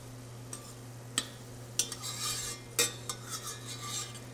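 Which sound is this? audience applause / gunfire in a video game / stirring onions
stirring onions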